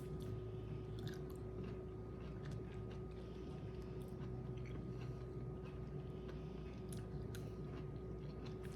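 Someone chews dilled green beans up close, giving soft, steady, moist chewing sounds with faint crunches over a constant low hum, with no talking.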